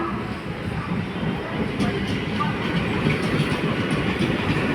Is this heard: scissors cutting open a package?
no